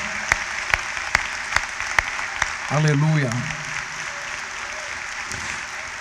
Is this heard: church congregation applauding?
yes